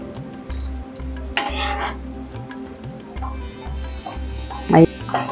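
Green chillies and then garlic fry for amla pickle, crackling and spluttering steadily in hot oil, with a utensil scraping and stirring and a sharp clatter near the end, all close and fairly loud.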